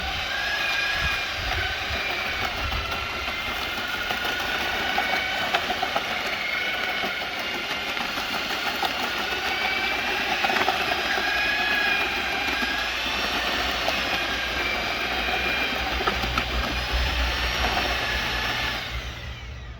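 A Parkside PDRW 1800 B1 twin paddle mixer runs at higher speed through a mixing compound, producing a loud, sustained motor whine with a droning hum that holds steady, close by, until it eases at the end.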